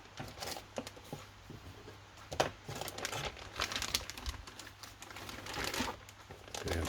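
A clear plastic parts bag from an HPI Toyota Corolla Levin AE86 model kit is handled and opened. Close, irregular crinkling and rustling of thin plastic continues for several seconds, with sharper crackles here and there.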